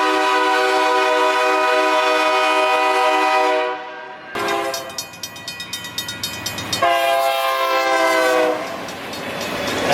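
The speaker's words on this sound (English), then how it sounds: "at first, it's that iconic sound, that hooting" A US train horn blasts in long, loud sustained hoots, broken by a short pause as the clickety-clack of passing rail cars comes through, then sounds again close by.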